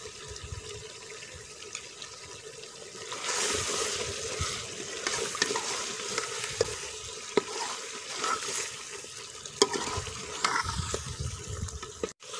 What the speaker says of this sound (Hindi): अचार भी हमारा अच्छी तरह मिक्स हो गया।